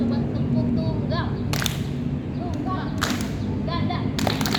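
Classroom group doing single unison claps in a focus game, three sharp collective claps spaced about one and a half seconds apart over a steady room hum.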